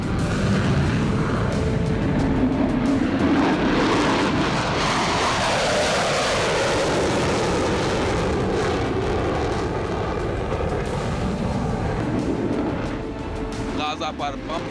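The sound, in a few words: Israeli fighter jets roaring overhead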